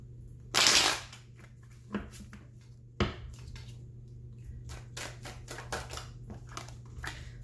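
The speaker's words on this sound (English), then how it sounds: "One more shuffle." Tarot cards are shuffled in a quiet room, with one sharp, riffling burst followed by a scatter of soft taps and flicks as the deck is handled.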